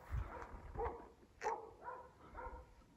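Hunting dogs bay at a cornered wild pig in New Zealand bush, a series of separate barks and yelps spaced through the moment, moderately close but not loud.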